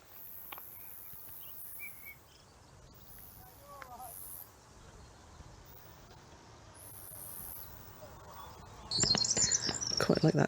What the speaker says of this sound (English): Let's see if I can get the grasshopper noise.